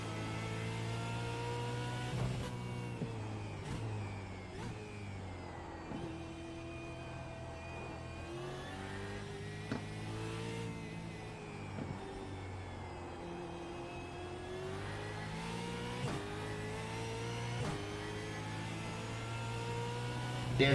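A V8 Supercar race car from a racing video game, lapping Sebring, drones steadily and loudly, its engine note rising and falling as the throttle eases off and reapplies, with brief gear-change blips and no talk.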